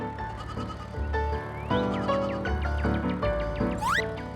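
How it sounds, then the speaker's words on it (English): A young lamb bleats repeatedly in a wavering, nasal cry, the calls rising and overlapping at close range with no talk. "Lambs are young sheep that are usually less than a year old."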